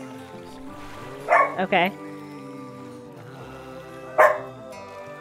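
Dog Delilah barking in the video game The Flame in the Flood: a short burst of several quick barks, then a single later bark, over a steady game soundscape while someone talks.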